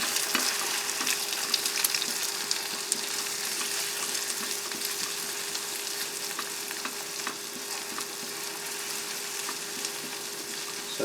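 Shrimp fried rice sizzles in a single pan on a camp stove in a tent, a constant hissing fry with faint scraping and tapping from stirring throughout, close and even, with no talking.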